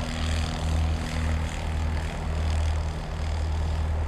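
A biplane's propeller engine drones loudly and steadily at Soissons airfield as it runs up for takeoff, a close, continuous low rumble with no talking.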